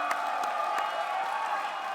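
A crowd at an Arctic Gaming Experience 2022 esports match cheers and whoops steadily, a continuous mid-level roar with a few sharper bursts near the start.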